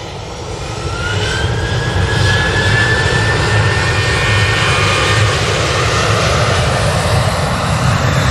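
Jet airliner departing close by, a roaring engine wash that swells in over the first second, then holds loud and steady with a thin rising whine across the top.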